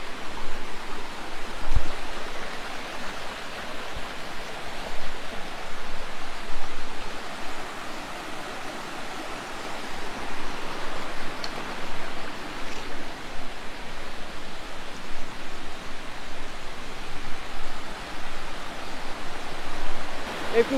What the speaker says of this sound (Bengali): এই রকম গভীর জঙ্গলে আবার আমি একা এই ঝর্ণাটা দেখতে এসেছি